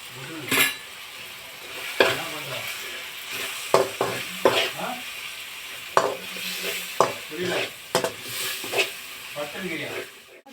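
Tomatoes sautéing in a pan with salt and garam masala while macaroni is being made, giving a steady sizzle broken by repeated clinks and scrapes of a spoon stirring against the metal pan.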